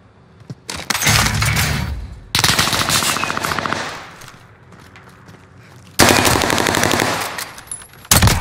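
Machine gun fire in the video game Call of Duty comes in three loud, sustained bursts of rapid shots, each followed by a quieter gap.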